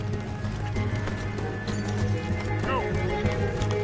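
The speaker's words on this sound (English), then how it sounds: "Let's get to those horses, Morgan." Hooves clatter at a gallop over a dense mix of Red Dead Redemption game sounds, with a horse whinnying briefly near the end; voices run underneath.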